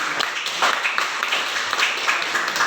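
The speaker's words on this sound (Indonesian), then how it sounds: "Berikan tepuk tangan untuk kelompok." Classroom applause for a student group after a presentation, a brisk patter of many hands clapping at once, close and steady with no talk.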